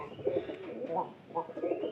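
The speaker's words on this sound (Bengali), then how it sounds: "দেখলাম আমাদের পায়রাটা গেল ঘরের ভিতরে" A pet pigeon coos inside a house, giving a few soft, low, throaty phrases at close range, with faint room noise around them.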